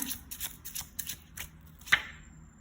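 Tarot cards being shuffled and drawn, a quick series of soft papery riffles and flicks, close and fairly quiet, ending with one sharper snap.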